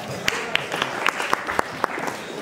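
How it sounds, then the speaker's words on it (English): A school classroom of students claps for a classmate, a brief scattered round of sharp individual claps that stays fairly light and uneven. "Please clap for her."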